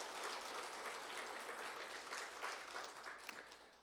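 A church congregation applauds during a Sunday worship service, a dense, steady wash of clapping that fills the room and holds for several seconds at moderate volume.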